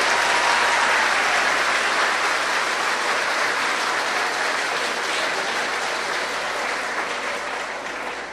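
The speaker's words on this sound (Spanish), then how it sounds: "le damos un gran aplauso" An audience bursts into loud applause to welcome a priest at an evening prayer gathering, a thick, continuous wash of clapping close and full, tapering slightly toward the end.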